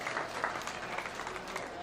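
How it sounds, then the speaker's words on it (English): Audience applause for the division winners in the pig class at a swine show, a steady, fairly faint wash of clapping with no voices over it. "give them a nice big round of applause for each of our division winners in our peer division"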